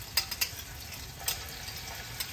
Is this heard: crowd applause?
no